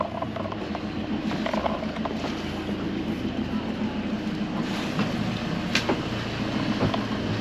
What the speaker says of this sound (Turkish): trolling valfli çıkıyorum buradan çok darbeli çıkmayalım diye